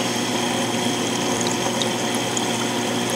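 Water from an aquarium top-off line trickles steadily into a small marine nano tank, a continuous close watery hiss and burble under a constant pump hum, with no talk.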